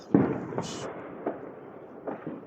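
New Year firecrackers and fireworks go off at a distance across a town, several dull booms and cracks spaced irregularly over a faint background, with one short hiss midway.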